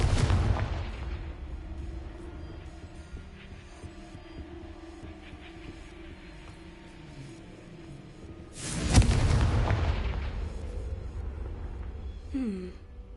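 Confringo fire-spell blasts in Hogwarts Legacy on PS5: a loud, booming explosion opens, fading into a low rumbling drone, then a second heavy blast strikes later and decays away, with no voices.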